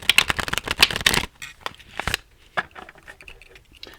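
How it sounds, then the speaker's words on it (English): A witch-themed tarot deck is shuffled by hand: a dense, rapid riffle of card edges for about a second, then softer, scattered flicks and taps of cards, close and alone. "One more shuffle."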